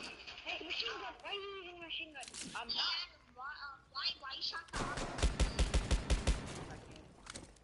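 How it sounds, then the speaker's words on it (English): Machine gun fire in a multiplayer video game: a quick burst of rapid, evenly spaced shots follows a stretch of excited talk among players, with chatter before the burst. "Why are you using machine gun?"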